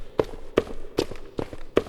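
Five evenly spaced footsteps echo through a large airport hall in a horror game, each step's sharp tap trailing into noticeable reverb.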